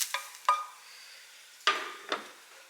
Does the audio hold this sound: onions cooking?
yes